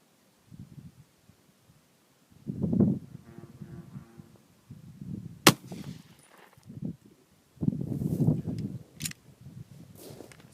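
A 9mm pistol firing Federal Hydra-Shok 147-grain standard-pressure ammunition from a 4-inch barrel: a single sharp, loud report amid quieter handling noises and brief rustles.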